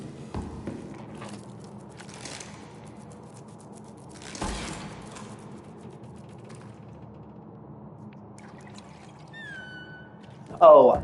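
Bottled Florida spring water is drunk, with a few faint sloshes and gulps spread across a quiet stretch, a brief louder burst near the end, and some talking.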